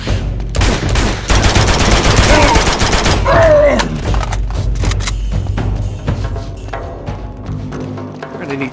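Loud, dense volleys of rapid gunfire from Uncharted 2 Among Thieves combat, continuous bursts for several seconds, then scattered single shots and clatter over a low rumble, with game voices mixed in.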